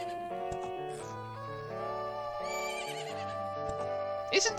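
Epona the horse whinnies in the video game The Legend of Zelda: Majora's Mask 3D, a bright neigh rising and falling over the game's continuous music, with a louder burst near the end.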